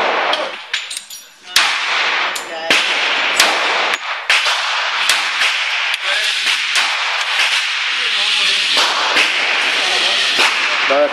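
Test firing of a 1911 Commander pistol in .45 ACP, a rapid series of loud sharp cracks with ringing echoes, close and punchy, over constant background noise.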